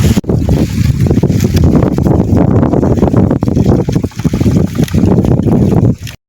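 Strong wind roars into the microphone on a farm, with heavy buffeting, continuous and loud throughout, cutting off abruptly at the end.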